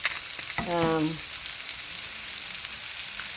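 Tilapia fries in a pan with a steady, close sizzle, and a plastic spatula flips the fish partway through. No one talks.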